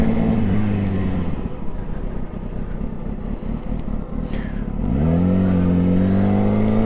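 A motorcycle engine running close by, idling steadily, then dropping into a rougher, lower stretch before settling back to a smooth, even hum. No voices.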